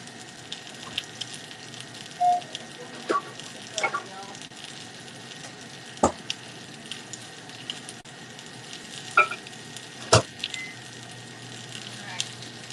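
Garlic and butter sizzle softly in a pan, a steady low crackle broken by occasional clinks and scrapes of a utensil, fairly quiet and close.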